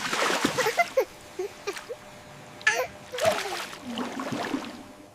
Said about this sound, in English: Warm water goes splish, splash.